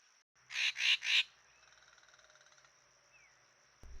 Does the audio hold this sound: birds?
yes